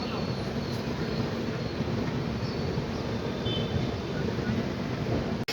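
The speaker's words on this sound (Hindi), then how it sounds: "चलिए गाड़ी हमारी लोनावला पहुंच गई है, तो यहाँ पे अपने बैंकर लोकोमोटिव को हटाए जाएंगे।" A train stands at Lonavala railway station on the Mumbai–Pune ghat line while its banker locomotive is detached, a continuous loud rumbling engine and track noise filling the whole stretch without a break.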